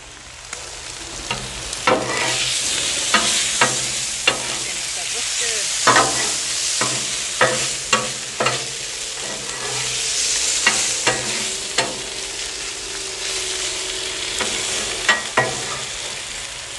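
Eggs fry on a Blackstone griddle with a steady, loud sizzle while a spatula breaks the yolks, adding repeated sharp metallic scrapes and taps against the flat-top.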